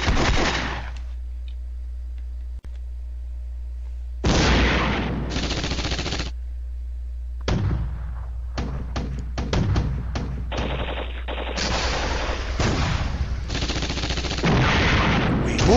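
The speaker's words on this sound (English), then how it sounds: "Enemy counter battery fire hits my mortars." Enemy counter-battery artillery fire pounds mortar positions in a World War II strategy game, a sustained loud barrage of booms and rapid gunfire bursts rolling in several waves with brief lulls between them.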